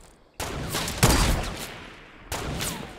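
Sniper rifle fire in Fortnite Battle Royale: three sharp, loud gunshot cracks about a second apart, each trailing into a fading echo, with no talk over them.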